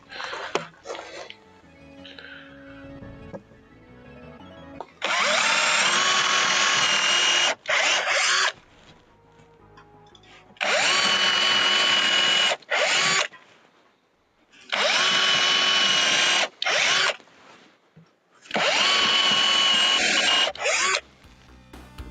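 Power drill driving screws into a wooden loft staircase: four long, loud bursts of whirring, each a few seconds, with short pauses and softer handling noises in between.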